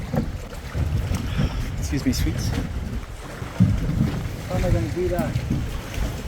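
Gusty wind sweeping over a lake near a dead-in-the-water barge, a continuous rough rumble and microphone buffeting beneath a person talking.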